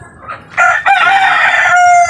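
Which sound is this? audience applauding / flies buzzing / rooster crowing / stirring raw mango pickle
rooster crowing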